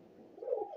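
A single soft, brief coo from a Punjabi blue high-flyer pigeon, a short-beaked female, faint and close, swelling slightly toward the end.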